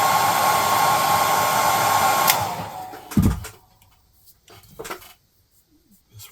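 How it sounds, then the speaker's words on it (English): A hair dryer blows on freshly painted model paint swatches for a miniatures colour chart, a loud steady whir that cuts off after about two seconds, followed by a few soft handling knocks and near silence. "Give it a quick blow dry."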